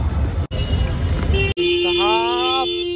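Car horns honk in crowded street traffic, with a sustained, sharp horn blast near the end over steady road noise while people talk close by.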